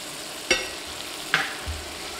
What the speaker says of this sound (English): we're gonna go ahead and get some butter in here